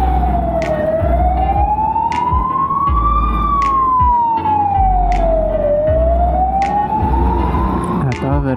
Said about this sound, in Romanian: Dăm la parte că vine ambulanța.